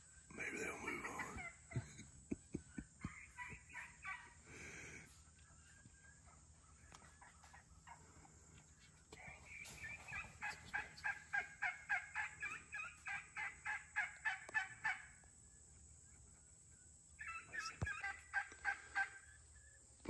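Turkeys gobble in repeated rapid bursts, several birds calling at a distance in clustered rattling volleys separated by quiet gaps, at a hunting feeder.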